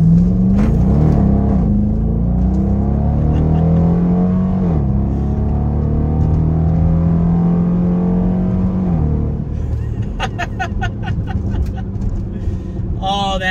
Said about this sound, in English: We're gonna do just a quick little pull here, just to hear the exhaust from a stop.